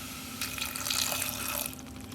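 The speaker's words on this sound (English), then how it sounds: "Add a little bit of our own water." Water poured from a container into a cooking pot of purple sweet potatoes, a steady close splashing stream lasting about a second and a half over a faint kitchen hum.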